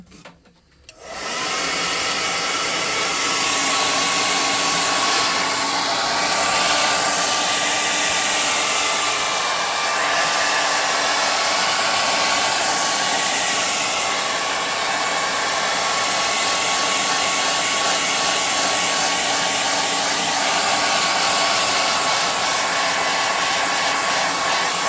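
A hair dryer blows steadily on a handmade tabletop RPG boss room craft piece, switching on at the start and then holding a loud, constant whir with no breaks.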